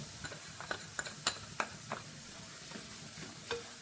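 Roasted rava is stirred into cooked green peas for upma, giving a series of scattered, quiet scrapes and clicks of a spoon against the pan over a faint background.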